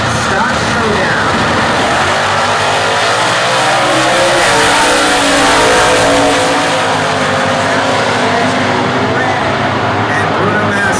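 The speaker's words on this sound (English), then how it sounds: "Both of these cars going to go up Ford versus a Chevrolet" Ford Mustang and Chevrolet factory stock drag cars roaring side by side at the US Nationals, a loud sustained engine blare with rising revs and tire noise, steady and close throughout.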